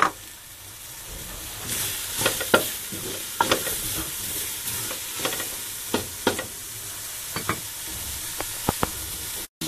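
Garlic and onion sauté in olive oil while being stirred, a steady close sizzle broken by repeated scraping strokes of a utensil against the pan, with no voices.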